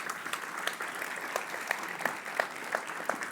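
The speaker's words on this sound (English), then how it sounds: "give them a round of applause as they do" An audience applauds as guests walk onto the stage at a talk about moving to Mars. The steady, moderately faint clapping has a few sharper individual claps popping out in a rough rhythm.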